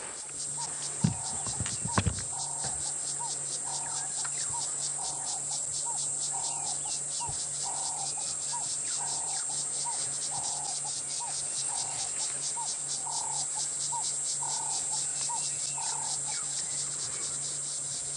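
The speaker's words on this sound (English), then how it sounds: "let's take a moment to just appreciate the sounds of the cicadas." Continuous high, steady insect buzz of cicadas at dusk during an evening safari drive in the African bush, carrying on throughout with a regular pulsing chirp underneath and a brief low knock near the start.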